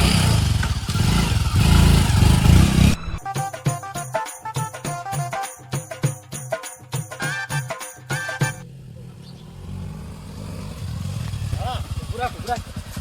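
A motorcycle engine sputters and struggles to start, with uneven bursts of pulsing mechanical chugging, while people talk loudly around it.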